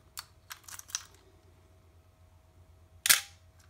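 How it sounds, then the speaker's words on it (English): Nikon FM2 film camera shutter being released during stuck-shutter repair: a few light mechanical clicks, then one sharp, louder snap near the end, close and quiet surroundings. "after I release shutter, the pendulum moved to the release position"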